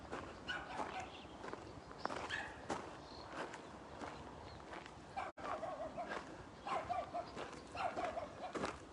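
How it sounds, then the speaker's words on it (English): A tiny, very annoyed dog barks in short repeated yaps at a moderate distance, mixed with footstep-like taps and soft background noise. "Got a little dog over here that's very annoyed this morning."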